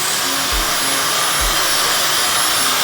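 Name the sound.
hair dryer blowing on cool setting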